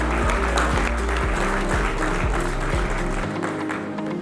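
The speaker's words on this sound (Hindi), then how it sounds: "एक बार अपना आपके लिए तालियां बजाएं।" Audience applause at an Engineers Day event, a thick wash of clapping from a crowd over a loud repeating low musical thump, continuous throughout and close.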